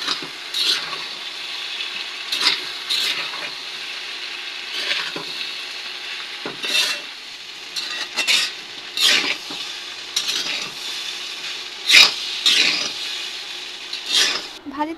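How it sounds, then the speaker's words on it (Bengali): Bitter gourd and small potatoes frying and being stirred in a pan, giving a steady sizzle broken by repeated scraping strokes of a spatula at irregular intervals, close and moderately loud with no talking. "আজকে করলা ভাজি করা হবে।"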